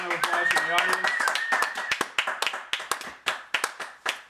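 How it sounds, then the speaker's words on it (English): Scattered applause from a small live-show audience, a voice briefly heard at the start, then a thin run of distinct, sharp hand claps that spread out and trail off. "a round of applause from the audience"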